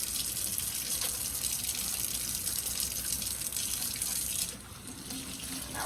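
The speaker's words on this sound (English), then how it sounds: "I always wash my hand in between touching stuff" Water runs steadily from a kitchen tap during hand washing, a close continuous gushing hiss that drops to a softer trickle near the end, with no talk.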